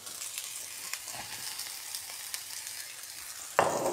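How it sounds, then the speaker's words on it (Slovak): Oyster mushrooms fry in a pan alongside sliced red pepper, giving a steady close sizzle with light crackles, then a louder, brighter surge of hissing near the end. "No a pražíme, kým sa nám to trošku nezmenší"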